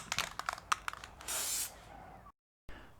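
Rust-Oleum spray paint hisses from an aerosol can onto wheel rims and between the spokes in short bursts, then one longer sustained spray, close and fairly loud, ending in a brief silence.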